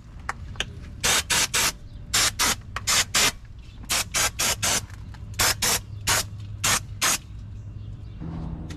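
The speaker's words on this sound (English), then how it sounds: "Give your caliper bracket a little bit of a spray" Repeated short hissing bursts of an aerosol spray can aimed at a brake caliper bracket on a Ram 3500, close and loud, in quick clusters of two to four, with a faint low hum underneath.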